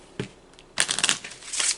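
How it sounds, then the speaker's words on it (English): A deck of Kipper cards being shuffled by hand, a soft riffle near the start followed by a longer, louder run of flicking and riffling card noise close by, with no talking. "I'm going to go ahead and shuffle the cards."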